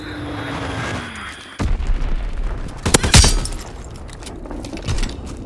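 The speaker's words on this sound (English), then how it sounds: "Enemy bomb incoming!" An enemy bomb explodes in a WW2 video game: a sudden heavy blast with crackling debris, following a rumbling lead-in and trailing off into lighter bangs, loud and close with no voices.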